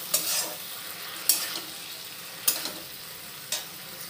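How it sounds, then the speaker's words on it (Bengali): Okra stirred with mustard paste in a frying pan: a soft sizzle underneath four sharp spatula scrapes against the pan, spaced roughly a second apart, close and clear. "সর্ষে বাটা দিয়ে দিলাম, দিয়ে এটা একটু ভালো করে নাড়াচাড়া করার পর নামিয়ে নিলেই রেডি হয়ে যাবে"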